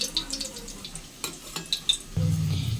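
Ridge gourd peels dropped into hot oil, setting off a sudden steady sizzle that follows a few soft clinks and stirring sounds.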